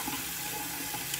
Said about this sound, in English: I wash my face now.